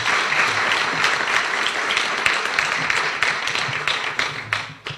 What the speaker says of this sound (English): I think we should give another round of applause for